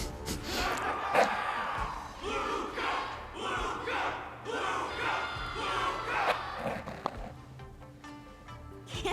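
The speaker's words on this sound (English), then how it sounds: "Can't you hear? Everyone's cheering for you" A crowd of spectators cheering in the Honkai: Star Rail video game, a dense roar of overlapping voices and shouts that swells and falls steadily, with a few sharper cries standing out in the mix.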